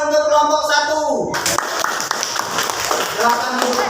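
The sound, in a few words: applause for group 1 in a classroom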